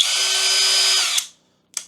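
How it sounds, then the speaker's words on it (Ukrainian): A Grosser GCD 101KBT cordless drill whirs steadily at its low first speed, about 450 rpm, for just over a second, then cuts off. A brief second burst follows, close and loud with no voices. "Перша швидкість 450 обертів на хвилину"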